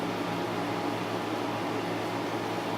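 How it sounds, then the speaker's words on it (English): An air conditioner runs on a very hot day as a steady, moderately quiet broadband hum with a low tonal drone, constant and unbroken with no talking. "I hope that the air conditioner is not too loud"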